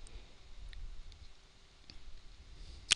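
A single sharp computer mouse click on a Windows PC, near and brief, near the end of an otherwise quiet stretch of faint room noise.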